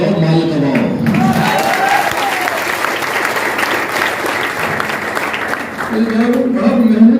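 Applause from a crowded audience at a large live business meeting in Siwan, Bihar, a dense, loud wash of clapping lasting several seconds, with voices talking over it at the start and end.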